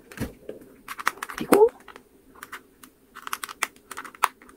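Calculator buttons pressed one after another, a string of light, crisp plastic clicks in an uneven rhythm with a voice speaking between some of the presses.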